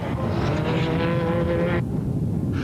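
Race cars roar past at full throttle during a truck and special-vehicle race, led by the Jojo Tanks VW Turbo, a dense loud engine howl with rising and falling pitch that cuts off sharply near the end.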